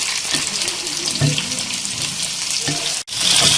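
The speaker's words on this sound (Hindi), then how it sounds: "यहाँ पे हम इन सारी चीजों को ऑयल के अंदर थोड़ा सा फ्राई कर लेंगे।" Onion, tomato and green chilli frying in oil for a quick chicken curry, a loud continuous close sizzle with a few stirring knocks and a brief break near the end.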